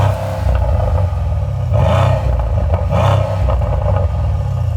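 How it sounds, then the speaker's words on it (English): A 2021 Mercedes-AMG C63S coupe's V8 in its loud Powerful exhaust mode: a deep, loud idle rumble broken by two sharp, close revving bursts about a second apart. "So that's what they call loud exhaust, aka powerful mode."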